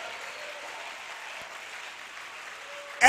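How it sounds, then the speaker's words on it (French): A church congregation at a bilingual French-English service claps together, a soft, even wash of applause heard from a distance, with a sharp loud noise at the very end. "Give the Lord a clap offering."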